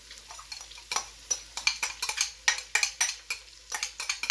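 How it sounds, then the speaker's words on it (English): Vegetables tossed and stirred into sizzling, three-quarter-cooked bacon in a pot for corn chowder make repeated scraping and clattering stirs over a low sizzle, rhythmic and close, with no talking. "now that we've got our bacon about 3/4 cooked, I'm gonna add our vegetables"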